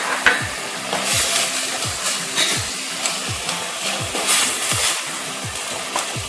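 Turmeric and Kashmiri chili powder fry in hot oil for a Bengali-style prawn curry, a loud steady sizzle under rhythmic spatula stirring strokes roughly twice a second.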